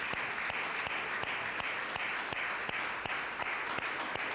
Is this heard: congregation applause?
yes